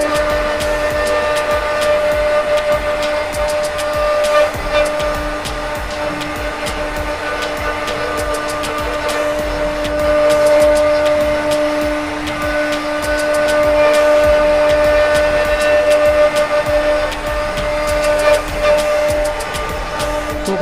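A CNC router machine cuts wood for a pitcher-style bed design, giving a loud, continuous motor drone with a steady tonal whine that holds throughout, with no voices.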